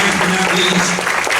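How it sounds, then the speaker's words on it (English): An audience at a high school poetry club event claps for performers, a brief loud wash of applause with faint crowd voices mixed in. "give yourself a round of applause to them for doing everything here"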